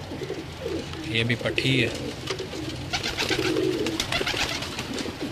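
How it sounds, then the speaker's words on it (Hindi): Salara Teddy pigeons, including a young hen of this rare breed in a Lahore loft, give soft repeated coos and throaty murmurs close by, while someone speaks briefly over them. "ये भी मेरा बड़ा अच्छा कबूतर है, सलारे टैडियों में से है।"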